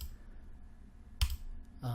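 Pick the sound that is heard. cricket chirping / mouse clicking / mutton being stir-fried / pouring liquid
mouse clicking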